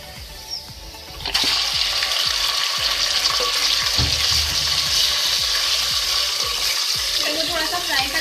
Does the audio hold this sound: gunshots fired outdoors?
no